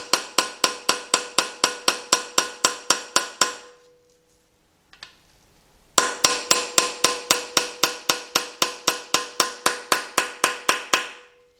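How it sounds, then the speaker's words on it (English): A hammer taps a socket down into the engine block of a 2006 Kia Sportage 2.7 V6 during a rebuild: a quick, regular run of loud metallic blows, a short pause, then another steady burst of strikes. "You're gonna tap that down until that socket stops."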